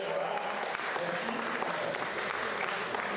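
Audience applause at an awards ceremony, a brief burst of steady clapping that fills the moment at moderate level.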